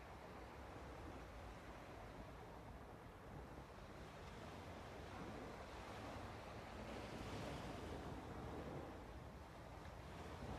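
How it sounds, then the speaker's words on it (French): Sea surf washing ashore in a continuous roar, waves swelling and breaking with a broad wash, steady and fairly loud throughout with some wind noise and no voices. "La gratitude de pouvoir être bercé par le ressac de la mer"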